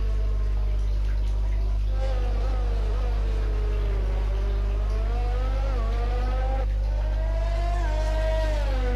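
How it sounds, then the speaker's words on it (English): A high-revving Formula 1 car engine in the F1 20 video game at the Singapore Grand Prix whines and shifts pitch up and down, with a constant low hum underneath. "Just listen to that car."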